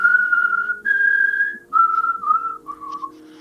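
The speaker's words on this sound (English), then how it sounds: "Who's whistling?" A person whistles a simple tune alone, several sustained and gliding notes in short phrases, clear and fairly close, with a steady low hum beneath and the last notes trailing off.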